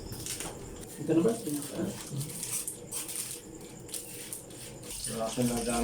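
Running tap water hisses steadily in a strong flow in Bohol, Philippines, while people talk over it and a dog whimpers nearby.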